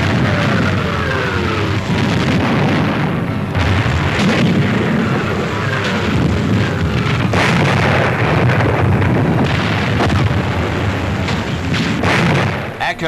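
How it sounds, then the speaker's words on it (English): Mortar battery firing on a hilltop ridge at an advancing patrol in the Korean War, with repeated booming launches and shell blasts over a dense, continuous rumble of battle noise. "American mortars are seen in action against a Red Chinese patrol advancing along one of the hilltops"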